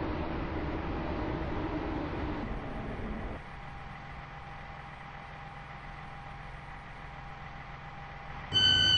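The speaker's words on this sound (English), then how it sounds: "The train now approaches." A class 158 train in the Roblox game Stepford County Railway rumbles into a platform, its engine noise dropping to a steady idling hum, followed by a short electronic chime at the end.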